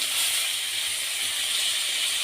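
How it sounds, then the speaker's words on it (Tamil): Curry leaves, mint and coriander sizzle in hot oil in a pan that already holds tomato and ginger, giving a steady, close, bright hiss that never breaks. "நம்ம அலசி வச்சுருக்க கருவேப்பிலை புதினா கொத்தமல்லி எல்லாமே போட்டு நல்லா எண்ணெயில் வதக்கிடணும்"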